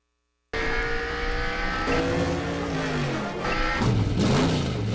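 Race car engine of a Lightning McQueen number 95 model revving loudly and close, its pitch sweeping up and down through several throttle blips after a brief silent start, with no talk over it.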